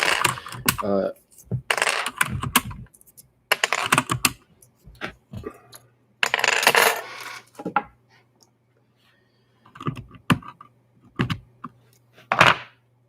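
Keys clicking on a Keychron K4 keyboard with lubed switches, quick bursts of close, crisp taps separated by short pauses, with a soft low hum between bursts.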